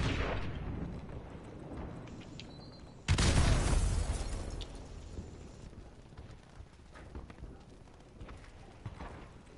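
A grenade detonates in a video game, one loud, sudden blast that rumbles and fades over a few seconds after a quieter stretch of low movement noise.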